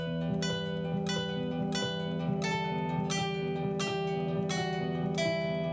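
Opening sections of Romanza on classical guitar: an unbroken rolling arpeggio of plucked nylon strings with melody notes accented every beat, near and consistent in volume throughout.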